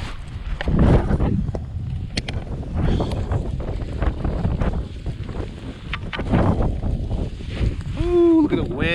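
Wind gusting over skier's left of Leeway at Mount Bachelor during a January powder run, a loud steady roar with microphone buffeting, under brief talk and exclamations.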